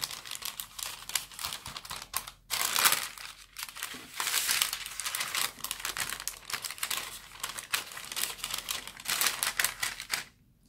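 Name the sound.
baking parchment paper crinkling while shaping fudge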